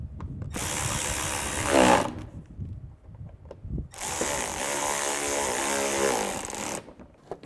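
A power tool drives and tightens screws on the lower grille of an 11-14 Chevy Cruze in two long whirring bursts separated by a short pause, loud and close, with no talk.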